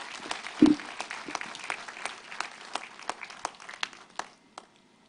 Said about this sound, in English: Can we give him a warm hand clap, ladies and gentlemen?